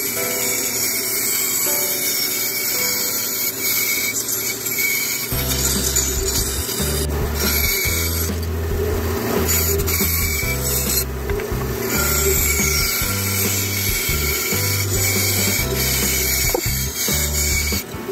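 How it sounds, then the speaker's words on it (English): A bandsaw cuts through a wooden board for spatula making, a steady loud mechanical whine with grinding blade noise that thickens into a heavier rumbling cut after about five seconds and continues without talk. "can you plug in the bandsaw for me?"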